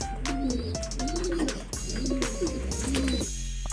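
Racing pigeons coo repeatedly in soft, rolling low calls, close by, as they enter their loft during training, over a busy background with faint chirps.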